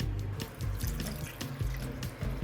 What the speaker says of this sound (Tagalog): Lalagyan ko lang po ito ng tubig.